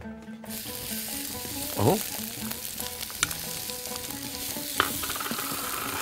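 Onions frying in ghee, butter or oil for a lamb leg with nutty rice, a steady close sizzle with stirring clatter throughout and a brief spoken word near the start.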